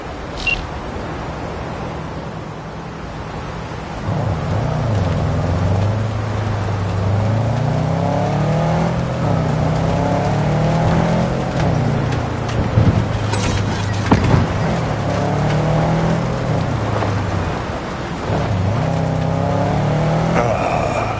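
A car driven in Cyberpunk 2077 on PS5 gives a steady, close engine drone whose pitch climbs and falls in repeated sweeps like gear shifts, with a few sharp clicks near the end.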